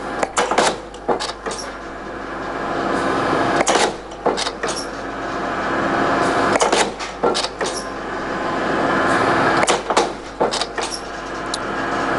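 A Cincinnati 1810 mechanical guillotine shear slicing thin sheet steel: a few sharp clanking strokes, each set off from the next by a steady mechanical hum of the running machine, loud and close.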